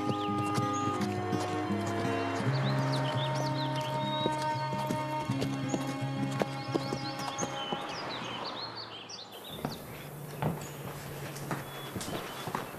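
Horse hooves clip-clop in a steady, close rhythm over a bed of music, with brief whinnies and bird calls; the backing drops away partway through, leaving sharper, more spaced hoof strikes.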